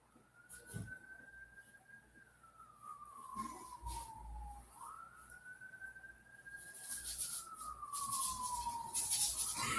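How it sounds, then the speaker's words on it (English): A siren wails in the distance, its pitch slowly rising and falling twice, over faint background noise that grows louder toward the end. "Nope, I hear the sirens."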